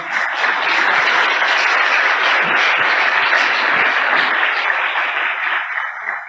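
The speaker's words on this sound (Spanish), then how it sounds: "Un fuerte aplauso, por favor." A large conference audience applauds a speaker's welcome: dense, sustained clapping that stays loud and even for several seconds before easing slightly at the end.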